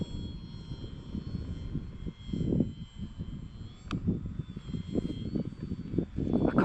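Power glider engine at full throttle during a climb, a steady, moderately loud propeller drone heard from inside the cockpit, rising slightly in places, with wind noise and no talking.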